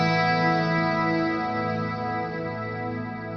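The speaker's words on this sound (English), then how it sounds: "lush sound. I'm getting it from a Band Commander amp" A sustained, clean electric guitar chord through a Band Commander amp, shimmering with a chorus effect, rich and lush, slowly fading while ringing out with no voices.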